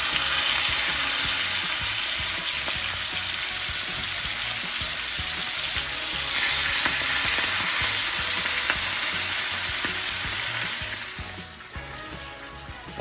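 Steaks frying in a hot pan with a steady, close, bright sizzle that holds for several seconds, then softens and drops as the heat or pan shifts near the end.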